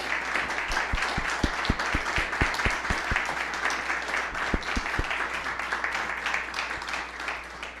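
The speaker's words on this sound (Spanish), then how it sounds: "Yo quiero nada más que un aplauso por la presencia de Claudia y Hugo." Sustained audience applause at an evening talk at a Lima film festival honoring a cinematographer, dense and steady throughout, with a few sharper individual claps near the front and no voices.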